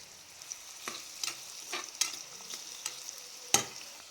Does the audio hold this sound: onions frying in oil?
yes